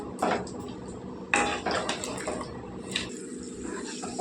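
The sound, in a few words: potatoes and onions mixed in pan, lid put on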